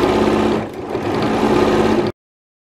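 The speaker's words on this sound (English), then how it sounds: "just sewing these seams underneath here, 5/8 of an inch" A sewing machine stitches the underarm seams of a jacket, running in one continuous close, loud mechanical whir with a rapid needle rhythm for about two seconds before cutting off.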